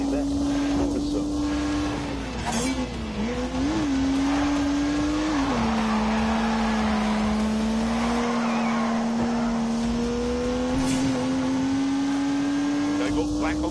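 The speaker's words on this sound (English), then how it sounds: "unleashed 365 rampaging horsepowers from the turbocharged 3-litre straight six" A 365-horsepower turbocharged 3-litre straight-six race car engine in a video game drones loudly and steadily, its pitch dipping and rising with gear changes, with a brief tire squeal and a voice talking over it.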